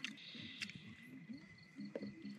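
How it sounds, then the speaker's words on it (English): Crickets and other insects chirp in a steady, high, continuous drone at a night campsite by Lake Cachuma, with faint low rumbles and indistinct sounds underneath. "the grasshoppers, the insects."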